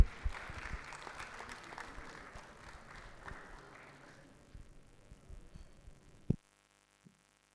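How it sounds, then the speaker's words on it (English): Applause from an audience, dense clapping that gradually thins and fades out, ending with a sharp thump and then silence. "Let's give them a round of applause, please."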